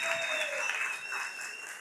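A church audience applauding, a dense, fairly faint patter of many hands clapping continuously for a moment.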